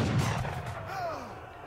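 A stationary cannon fires in the strategy game Age of Empires III, a loud booming blast with rumbling decay heard alone, followed by a faint whistling tail.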